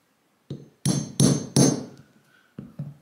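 Several sharp taps of a tool striking wood to mark drill centres for the eyes of a wooden owl, a handful of close, distinct knocks in an irregular rhythm with a couple of lighter taps at the end.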